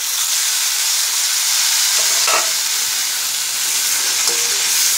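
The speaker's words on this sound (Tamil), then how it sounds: "இப்போ தக்காளி போட்டுக்கலாம்." Tomatoes and onions sizzle together in a hot pan with a loud, continuous frying hiss, with brief stirring scrapes close by and no talking.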